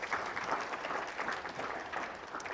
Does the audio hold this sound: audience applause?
yes